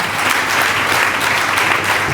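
Church congregation applauding together, a dense, steady wash of clapping from many hands filling the room, sustained at an even loudness with no talk over it.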